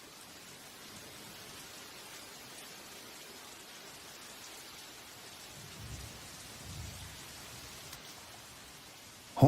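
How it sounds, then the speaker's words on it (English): Steady tropical forest rain patters on leaves and surfaces, with a couple of low thunder rolls rumbling in the distance and a sharp sound at the very end. "The rain starts pouring down, like a harsh welcome to the real world."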